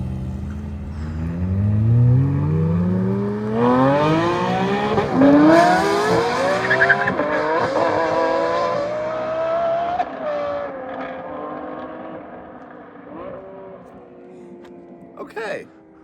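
A Lexus LFA engine screams while driving, its revs climbing in rising sweeps through the gears, loud and close, then falling away to a lower drone; people talk over it.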